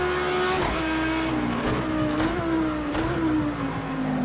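A race car engine in a racing video game set at Long Beach, revving steadily with a strained, buzzing tone that rises and dips with shifts, loud and continuous with no talking.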